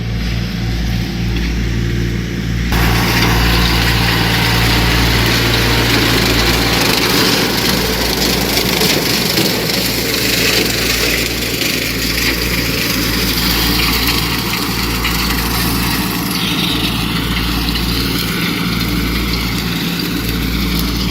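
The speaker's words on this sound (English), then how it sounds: "he's got his mower set at about 10 inches" A tractor-pulled mower cuts tall summer food-plot vegetation among soybeans, its engine droning loud and steady with a constant low rumble and brushy cutting noise throughout, no voices.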